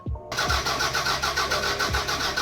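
A Toyota MR2 Turbo that will not start cranks its starter, the engine catching with a sharp burst and then holding a loud, steady, buzzing churn up close.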